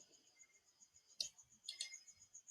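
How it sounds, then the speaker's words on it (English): Two crisp, faint computer mouse clicks sound against a quiet background with a soft steady hum, as the OK button is pressed in a Microsoft Word dialog box. "Then click OK."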